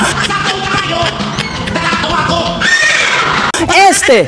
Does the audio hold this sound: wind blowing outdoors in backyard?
no